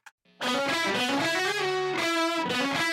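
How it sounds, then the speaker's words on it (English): Scratchy DI guitar through Native Instruments Guitar Rig with stereo delay, a dense, continuous wash of distorted, effected strumming after a brief faint pluck, loud and close with no talking. "This was a DI into Native Instruments guitar rig with some delay on it to give it some stereo split."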